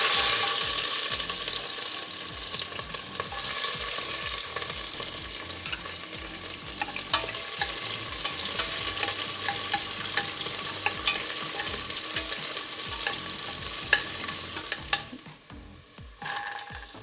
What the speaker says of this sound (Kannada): ಸ್ಪೈಸಸ್ ಹಾಕ್ತಾಯಿದ್ದೀನಿ, ಬೇ ಲೀಫು, 2 ಮೆಣಸಿನ್ಕಾಯಿ ಹಾಕ್ತಾಯಿದ್ದೀನಿ